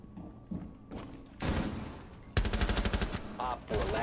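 Gunfire in the video game Rainbow Six Siege comes in bursts of rapid shots and thumps, with a quieter stretch before the louder volleys.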